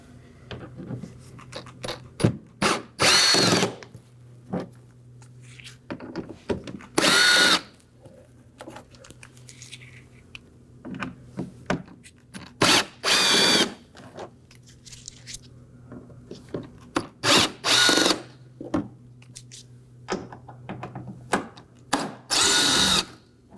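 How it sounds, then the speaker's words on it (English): Power drill backing out five T15 Torx screws from the inner wheel well liner of a 2018-2024 Chevrolet Equinox 1.5L, sounding as repeated short, loud whirring bursts separated by pauses, with quieter clinks and handling noise in between. "Now for our 5 T15 Torx screws on the inner side of the wheel well."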